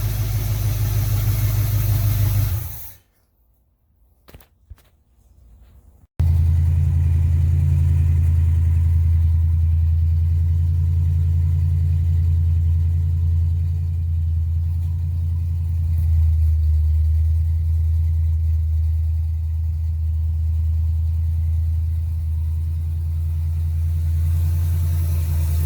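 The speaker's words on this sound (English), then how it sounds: "you saw the car start and run" Old taxi car engine idling steadily after starting, a loud continuous low rumble that cuts out briefly near the start before restarting and running on alone.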